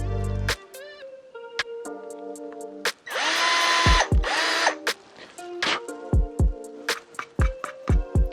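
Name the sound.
power drill pre-drilling three holes in a ski skin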